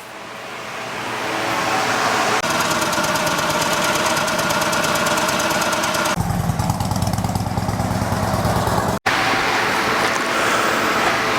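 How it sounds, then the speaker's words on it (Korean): A Harley-Davidson motorcycle engine on a used bike fires up and settles into a loud, steady, loping idle with a continuous rhythmic thump, running alone without talk. "이제 시동을 걸어서 한번 상태를 봤고요"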